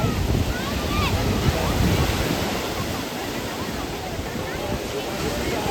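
Sea waves at Puri beach roar in a continuous broadband wash, mixed with wind buffeting the microphone and faint distant voices.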